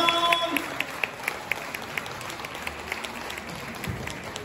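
Audience applause at a live show by a pop group at a Susukino, Sapporo venue, a steady wash of clapping with a few sharper claps standing out, moderately loud and continuing throughout.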